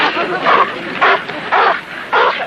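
Dogs bark about four times in an evenly spaced rhythm of short, close, fairly loud yaps during an evening walk in a vintage television sitcom, with nothing else competing.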